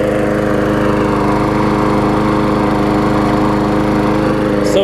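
A rusty, modified Murray push mower engine runs at a steady, loud drone with an even, buzzing hum, close by and with no talking.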